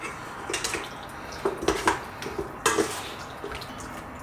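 Chicken wing marinade gets stirred with cornstarch in a bowl, making soft wet clicks and scrapes of a utensil in a short series of irregular taps, close and fairly quiet.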